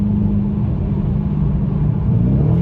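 A car accelerates hard during a street race on a desert road in Mojave, a loud close steady engine roar with a deep low rumble that holds its level throughout, no talking.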